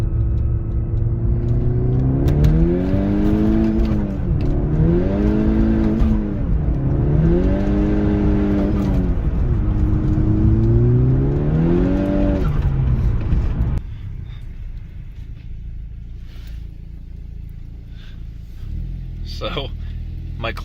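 A modified MK6 VW Golf R accelerates hard from second gear, its engine loud and close from inside the car, repeatedly climbing in pitch through quick gear changes before dropping to a lower steady drone.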